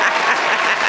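A burst of applause, many hands clapping densely and loudly, close and steady for under a second with no voices.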